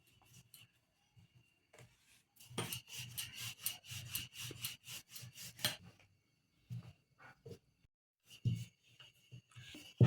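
A rolling pin works cut rumali roti dough on a board in rapid back-and-forth strokes, giving soft rubbing, scraping rasps with brief pauses and a few light knocks, close and fairly quiet.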